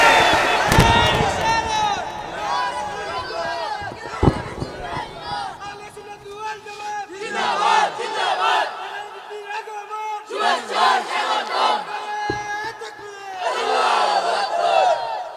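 A large crowd at a Bangladeshi Islamic religious gathering shouts Allahu Akbar in loud, rhythmic bursts, answering a preacher's Naraye Takbir call, with several waves of massed voices rising and falling.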